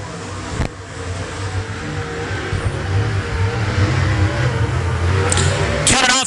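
Race cars drone around an oval dirt track in a mod lite feature, a continuous engine roar from several cars running single file with a rising pass near the end, with some announcer talk in the mix.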